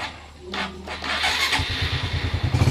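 A motorcycle's electric starter cranks briefly, then the engine catches and settles into a pulsing idle, close and fairly loud, with a faint voice early on.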